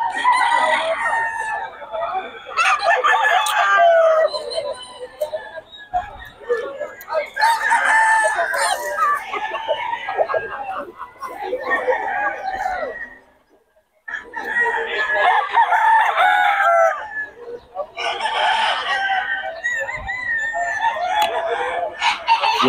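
Roosters crow repeatedly among clucking hens, loud and close, with someone talking over much of it at a backyard fowl sale.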